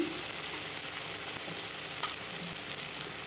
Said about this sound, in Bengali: ভাজতে ভাজতে টমেটোটাও এইভাবে গলে যাবে।